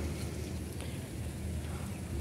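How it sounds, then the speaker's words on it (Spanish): Rain falling outdoors as a steady, soft broadband hiss with faint patters, continuous and fairly distant, with no voices. "Ya está lloviendo."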